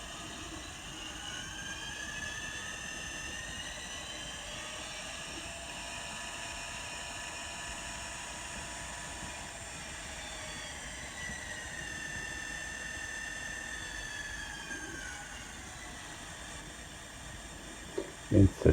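A model railroad locomotive's steady engine drone hums throughout, its pitch shifting gently as throttle changes, ending with a few sharp clanks.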